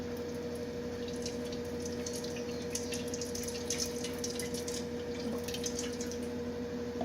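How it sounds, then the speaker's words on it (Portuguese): Room-temperature water trickles and drips into a small can in a continuous, close, steady flow over a faint humming tone. "a gente vai pegar a água que está em temperatura ambiente e vai colocar dentro da latinha"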